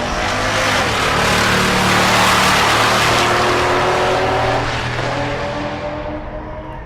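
Two drag racing cars, a BMW and a big old wagon, launch together and roar loud and near for several seconds before the sound thins and fades into the distance.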